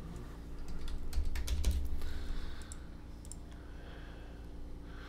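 Code is typed on a computer keyboard, a quick flurry of close, crisp key clicks that thins out into a few scattered taps against a faint background hum.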